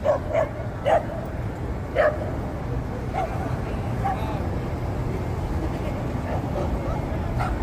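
A dog on a busy downtown New York City street gives several sharp barks near the start, about four in the first two seconds and a few fainter ones after, over steady traffic rumble and crowd noise.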